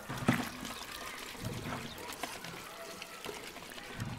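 Water poured over hands for handwashing, a soft trickling pour under faint background sounds with brief clatters, low in level.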